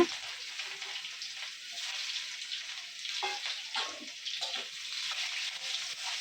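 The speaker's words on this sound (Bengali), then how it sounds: "পেঁয়াজগুলো ভালো করে ফ্রাই করে নেব" Chopped onions fry in plenty of oil with cumin, radhuni and bay leaf, giving a soft, continuous hiss with gentle bubbling that stays fairly quiet and even.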